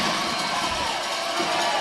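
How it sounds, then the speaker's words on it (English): Steady broadband roar of a USA crowd cheering at a women's rugby match between USA and Canada, a sustained distant wash of many voices without distinct peaks. "The USA crowd getting loud here."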